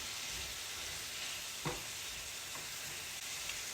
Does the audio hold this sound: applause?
no